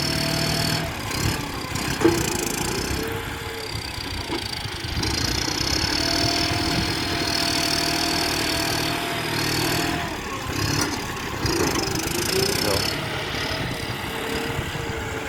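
A farm tractor engine runs while ploughing a field, a continuous mid-pitched drone with rough texture and small rises and dips in load, fairly close, with no voices over it.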